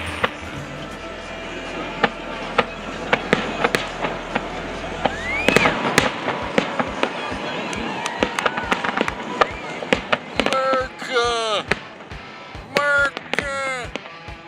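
Fourth of July fireworks over Lake Havasu, with many sharp cracks and pops, a rising whistle and bursts of crackling from near to far, and people chatting among the bangs.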